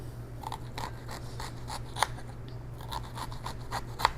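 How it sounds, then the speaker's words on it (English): A knife slices repeated lines into an onion on a board, a steady run of short crisp cuts with two sharper knocks as the blade meets the board, close and fairly quiet with a low hum behind. "I'm gonna make lines in my onion, and then I'm just gonna cut it."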